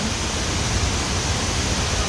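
The Pha Kluai Mai waterfall on a Khao Yai nature trail in Thailand gives off a steady, even rush of falling water, a constant broadband hiss without breaks or voices.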